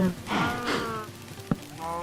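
Cows on a farm in the Minecraft video game moo twice in quick succession, close and clear, followed by a short click-like knock and a faint lingering tone; no talking.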